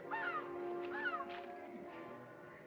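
A crow calling in an outdoor river setting, two drawn-out cawing cries followed by a fainter one, quiet and somewhat distant over a low steady background.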